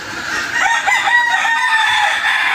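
Chickens and chicks in a small backyard coop, with loud, steady clucking and peeping that sounds close, along with a crowing-like call amid continuous farmyard bird noise and no talking.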